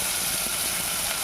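Paneer frying in a pan gives a continuous dense hiss of oil, close and even, with a faint stirring clink at the very end.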